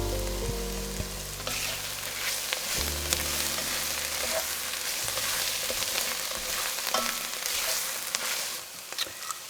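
Garlic fries in a pan at a truck camp on a frigid mountain night, a loud, steady close sizzle with crackles and a brief low stir near the start, continuing without pause.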